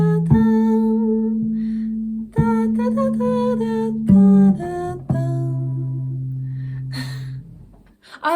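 Bass guitar harmonics ring out in clear, bell-like sustained tones, several notes struck one after another and left to decay, played alone with no talking.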